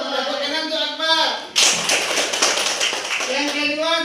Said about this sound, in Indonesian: Tepuk tangan untuk Akbar.